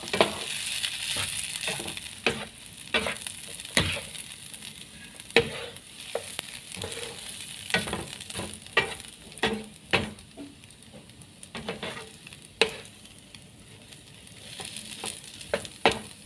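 Blanched yellow egg noodles, already tossed in oil, are stir-fried in a pan at home, with a steady sizzle broken by repeated sharp scrapes and clatters of the spatula at an irregular rhythm, close and moderately loud, with no talking.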